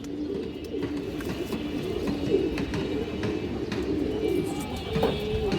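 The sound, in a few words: Road Master pigeons cooing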